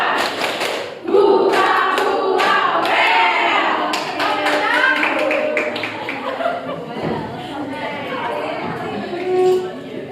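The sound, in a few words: class clapping in rhythm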